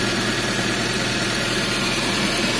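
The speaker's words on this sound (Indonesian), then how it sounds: "sekarang mesinnya sedikit lebih tenang yo" A Suzuki APV engine idling after an intake cleaning, a steady and even hum with a constant low rumble and broadband noise, continuous and unchanging with no voices.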